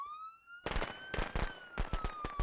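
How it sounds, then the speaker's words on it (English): Video game fireworks in Friday the 13th: The Game crackle and pop in several sharp bursts after a rising whistle, loud and close, alone without talk. "Celebratory fireworks!"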